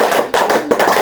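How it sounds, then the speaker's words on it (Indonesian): Children clap their hands in a counting game, a few quick sharp claps close by in a classroom, loud and with no talk. "Kita tepuknya 4 kali."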